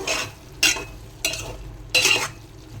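A tomato and drumstick curry cooks covered on a low flame in a pot, with a soft steady simmer broken by three bursts of louder bubbling and spoon stirring.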